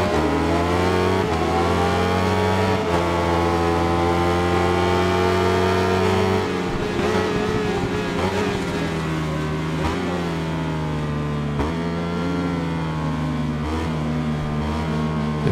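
Honda RC213V racing motorcycle engine in the game Ride 5, a loud, sustained high-revving whine that dips and climbs through gear changes, heard alone with no talking.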